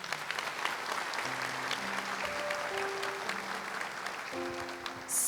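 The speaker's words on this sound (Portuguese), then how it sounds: "Vamos aplaudir a palavra?" A church congregation applauds after the Gospel reading, a steady, sustained wash of many hands clapping together while organ or keyboard notes sound softly underneath.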